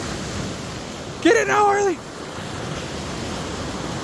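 Big ocean waves wash onto a beach in a steady, broad rushing roar with wind, while a person calls out briefly over it in the middle.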